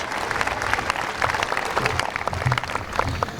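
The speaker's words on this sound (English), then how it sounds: "Let's give them another round of applause." An audience at a grand opening ceremony gives an orchestra and choir another round of applause, with dense, steady clapping filling the whole stretch and a few faint cheers.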